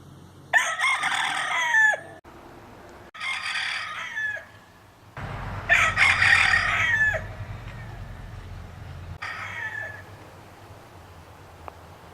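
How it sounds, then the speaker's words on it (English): A rooster crows from far away on a freezing early morning. Four long crows ring out one after another with short pauses between them over a low steady rumble, and no one speaks. "Got us a rooster way over there, making sure that we're all up."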